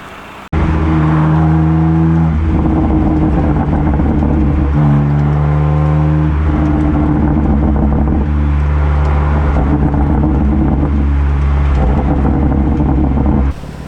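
A BMW M2 Competition fitted with a Remus exhaust drives past, its engine note loud and steady for the whole stretch, rising and shifting pitch as it approaches and passes without any talk over it.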